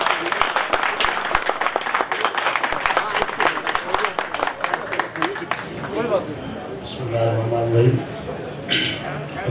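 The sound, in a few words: audience applause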